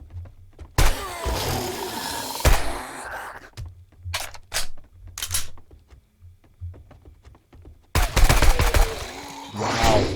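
A tactical assault rifle fires in 7 Days to Die in loud, close bursts. Sharp shots come in separate volleys with short quiet gaps, and a heavy burst closes the clip.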